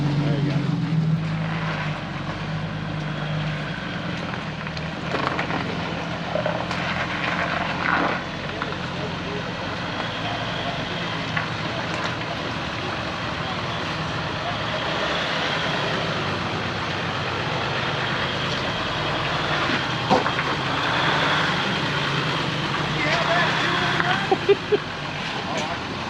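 A diesel off-road vehicle rock crawling in southern New Mexico gives a steady, loud engine rumble with broadband roar throughout, and voices can be made out under it.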